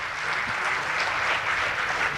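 An audience at a patriotic poetry recital breaks into dense, even applause that carries on without letup, a sustained wash of many hands clapping with no voice over it.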